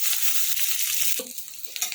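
Dried fish sizzles steadily in a generous amount of hot oil in a pan, with a brief clink of stirring partway through before the frying continues a little quieter.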